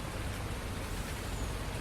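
Steady rain falling on a Pacific Northwest farm in Farming Simulator 19, a dense, even hiss with no pauses or talk.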